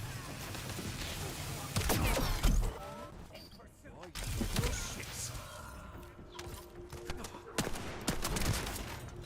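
Hand cannon fire in The First Descendant, a run of sharp, heavy gunshot bursts with mechanical clatter between them, close and loud, mixed with other game sounds.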